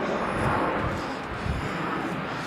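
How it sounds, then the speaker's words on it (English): Steady broadband roar of an aeroplane passing overhead during a countryside walk, a constant distant rumble with no talking. "I can hear an aeroplane"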